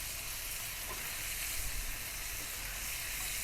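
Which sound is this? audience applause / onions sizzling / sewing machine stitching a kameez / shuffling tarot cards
onions sizzling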